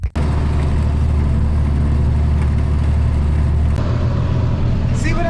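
A loud tractor engine runs steadily at close range during a corn harvest, a heavy low drone that holds nearly constant before easing slightly near the end.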